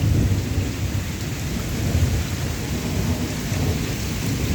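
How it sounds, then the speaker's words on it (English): A heavy thunderstorm with pouring rain and rumbling thunder during a category 5 hurricane, a dense, loud, continuous roar of downpour with low rumbles throughout and no voices. "there's just your everyday typical hurricane in 2025, category 5, everyday hurricane right here"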